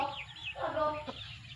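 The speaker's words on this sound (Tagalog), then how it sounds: "Ay, dool-dool mga manok." Chickens and small chicks clucking close by on a farm, several soft overlapping clucks and peeps over about a second and a half, with a brief sharper call near the end and no talk.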